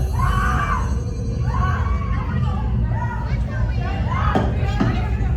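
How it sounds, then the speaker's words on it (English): Many people screaming and shrieking together in rising, wavering bursts, loud and continuous, with a rumble of motion underneath. "Why are you screaming? It's not that bad."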